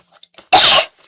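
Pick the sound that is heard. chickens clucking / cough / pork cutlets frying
cough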